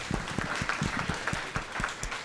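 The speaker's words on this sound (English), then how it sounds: "Let's give J.D. a big round of applause." A crowd claps for J.D. Kathuria at a K-12 STEM symposium, steady applause with distinct individual claps standing out, moderately distant.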